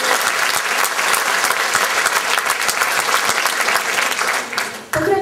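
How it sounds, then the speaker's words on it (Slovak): Loud, sustained applause for a soloist at a concert hall performance, dense clapping from a large audience filling the clip and thinning briefly near the end. "Ešte raz poprosím potlesk pre neho."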